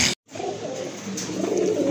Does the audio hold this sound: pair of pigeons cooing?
yes